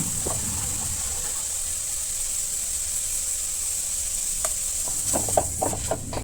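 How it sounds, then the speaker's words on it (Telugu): Carrot frying with salt and turmeric in a pan produces a steady hissing sizzle, followed near the end by a few sharper stirring scrapes and clatters, close and without talk. "ఇలా వేస్తున్నప్పుడే కాస్త ఉప్పు ఇంకా పసుపు కూడా వేసుకొని బాగా వేయించుకోవాలి"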